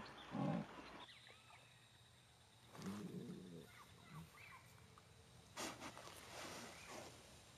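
A jaguar in the Brazilian Pantanal gives short, hoarse grunting calls at intervals, scattered across a quiet wild setting with faint ambient noise between them.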